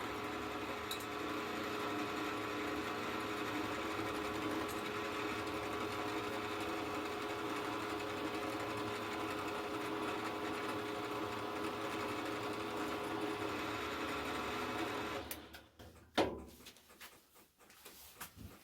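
A machine runs a spotting drill at 1180 RPM with a steady, loud mechanical drone and whine for about fifteen seconds, then spins down, ending in a few clunks and knocks.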